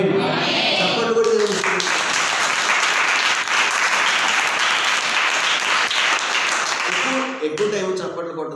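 A church audience claps in sustained, dense applause for several seconds, loud and close, fading out near the end as a voice returns.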